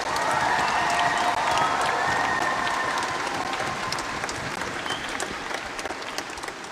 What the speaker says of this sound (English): So can we have a round of applause for all our volunteers?